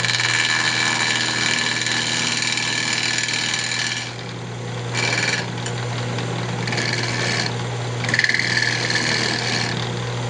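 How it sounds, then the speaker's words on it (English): A wooden bowl spins on a woodturning lathe with a steady motor hum while hand sanding adds intermittent rough, hissing scrapes that come and go in several short bursts. "And we'll do a little bit of hand sanding with it."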